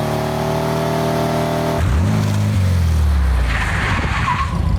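A 1952 MG TD kit car on slick pavement in a cul-de-sac idles steadily, then its engine note drops and strains as the tires spin and skid in a loud, continuous attempted burnout with no talking.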